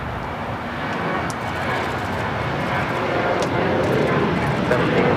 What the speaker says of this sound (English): This is United Airlines 1774 taking off to Las Vegas on the 737-800